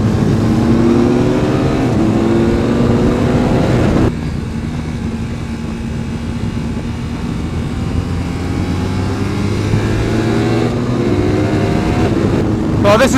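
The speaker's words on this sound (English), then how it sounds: "this is when you really notice the extra power that the KTM's got" A KTM engine accelerates hard during a roll-on test on the Nurburgring, its loud revving drone rising in pitch, dropping briefly after a shift, then climbing again close up.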